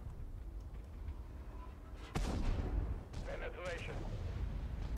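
A T-55 tank cannon shot hitting in a video game, one sharp boom followed by a heavy rumbling decay over steady battle noise, with voices talking.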